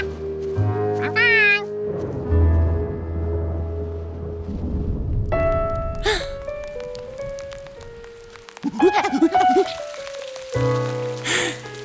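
A cartoon rain storm: steady rain patters on surfaces beneath shifting musical tones, with a brief cat-like meow and character voices mixed in.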